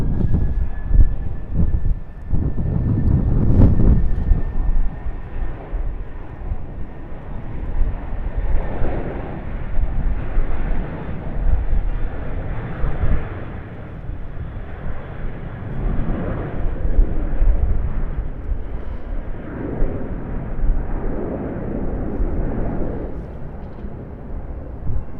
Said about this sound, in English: Jetstar Airbus A320 into the skies above Sydney